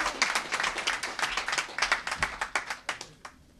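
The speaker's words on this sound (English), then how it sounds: "Give him a round of applause." An audience at a Seattle mayoral scholarship announcement gives a round of applause. The crisp, fairly close hand claps start dense and then thin out into scattered individual claps before fading.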